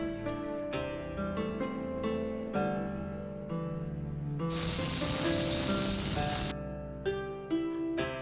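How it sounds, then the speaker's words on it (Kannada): A pressure cooker with egg curry inside lets out a loud, steady burst of hissing steam lasting about two seconds. Softer bubbling and clinking sounds come before and after it. "ಇದು ಮತ್ತೆ 1 ವಿಷಲ್ ಬರೋವರೆಗೂ ಕೂಗಿಸ್ಬೇಕು"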